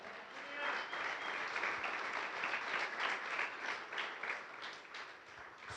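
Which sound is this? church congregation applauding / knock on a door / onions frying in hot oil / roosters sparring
church congregation applauding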